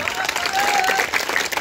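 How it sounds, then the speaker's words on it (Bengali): An audience at a village youth club prize-giving ceremony claps steadily, a dense patter of applause heard close, with a faint sustained tone running through it. "আমরা তার জন্য একটা করতালি দিই।"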